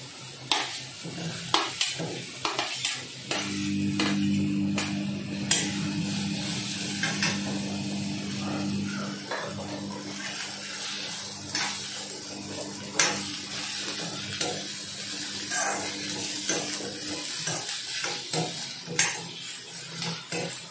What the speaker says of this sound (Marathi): हा कांदा थोडा गुलाबी कलरवर परतून घ्यायचा आहे